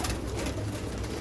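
Pigeons cooing close by during vaccination, soft throaty burbling calls over a dense background rustle, with no speech.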